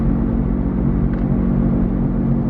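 A worn wheel hub bearing on a Honda Civic in rough shape, heard from inside the moving car as a loud, steady low droning hum and road rumble that holds constant throughout, with no talking.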